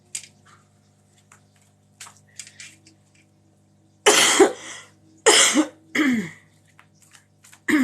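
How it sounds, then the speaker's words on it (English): A woman coughs and clears her throat in a few loud, close bursts of harsh rasping, separated by near silence and faint small noises. "That was me coughing, clearing my throat,"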